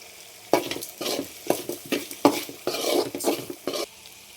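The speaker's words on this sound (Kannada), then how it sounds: "ಇದನ್ನು ಕೂಡ ಚೆನ್ನಾಗಿ ಫ್ರೈ ಮಾಡ್ಕೊಳ್ಳಿ" Ingredients for chicken gravy fry in a pan, and a spoon stirs them in a rhythmic series of scraping, clinking strokes over a low sizzle, heard up close with no talking.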